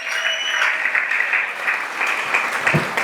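Church congregation in Bujumbura breaking into sustained applause, a dense, steady roar of many hands clapping throughout, close and loud.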